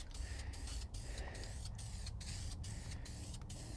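Short bursts of spray paint hiss onto an engine oil pan from a 1.9L ALH TDI, about eight quick, evenly spaced sprays with brief pauses between, close and fairly quiet.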